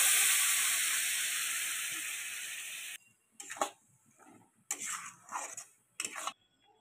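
Raw mango pieces coated in jaggery and sugar hit a hot wok with a loud steady hiss that slowly fades, then break into short sizzling bursts of stirring with silent gaps.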